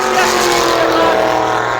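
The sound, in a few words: race car engines roaring on track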